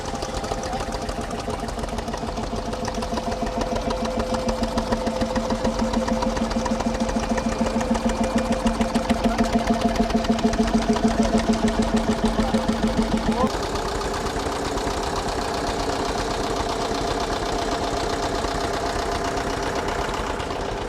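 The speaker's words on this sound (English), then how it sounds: "So this is what we call stationary engines." Vintage stationary engines running at a steam and vintage rally, giving a steady, rhythmic chugging over a continuous mechanical drone; the mix shifts partway through as one engine drops out.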